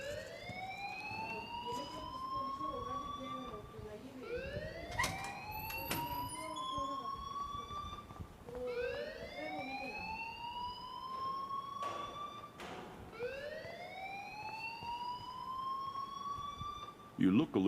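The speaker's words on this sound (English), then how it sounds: "please turn off that alarm since that's your job" An alarm in the video game Life is Strange wails in a rising, siren-like sweep that repeats about four times at a steady pace, loud and continuous over faint background noise.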